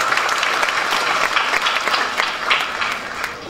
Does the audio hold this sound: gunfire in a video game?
no